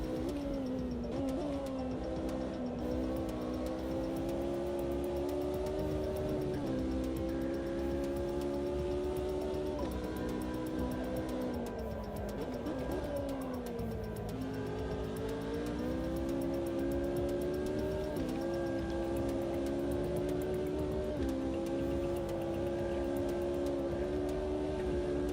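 Race car engine droning steadily through laps of a multiclass community racing game, the pitch climbing and dropping with gear shifts and braking, with light tyre noise, loud and continuous throughout.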